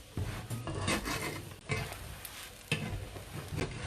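Kuskumas pastry cooking in a pan, giving a close, steady crackle and hiss broken by a few louder scraping or stirring strokes, with no talking.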